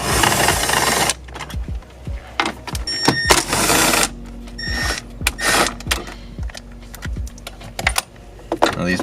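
A wrench backs out 10mm bolts from the dash of a Lexus GX during a stereo removal, making close, irregular metallic clicks, clacks and rattles with brief pauses between bursts.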